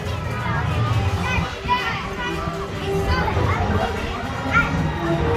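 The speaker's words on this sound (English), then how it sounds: "Don't want to be caught in the crowd." Crowd of people at Chessington theme park, with children's voices and general chatter blending into a steady, busy murmur of nearby visitors.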